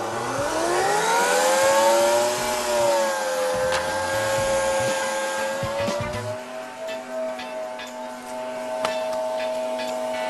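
An electric mixer whips pre-sweetened cream for a White Forest cake, its motor whine steady and continuous, rising slightly in pitch early on and then holding level, loud and close with no talking.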